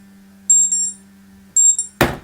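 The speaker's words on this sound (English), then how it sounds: "That was my alarm" A loud electronic alarm beeps in two bursts of rapid tones over a low steady hum, then a sharp broadband clatter cuts in at the end.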